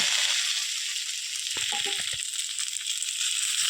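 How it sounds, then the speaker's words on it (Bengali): Taro and red lentils fry in a pan for a Bengali pui shak dish, giving a steady close sizzle with a brief burst of spoon-scraping stirring midway. "মসুর ডাল দিয়ে দিলাম এটাকে আমি এবার ভালোভাবে কিছুক্ষণ নেড়ে নিব"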